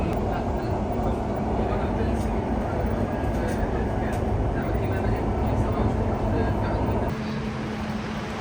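A Dubai Metro train runs with a loud, steady rumble and rattle of the carriage, roughly eight seconds long and easing slightly near the end, with no speech.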